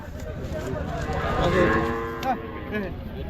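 A cow at a busy cattle market lets out a loud, drawn-out moo close by, with people's voices and market noise in the background.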